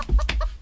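A chicken clucks several times in quick, choppy bursts, close and fairly loud.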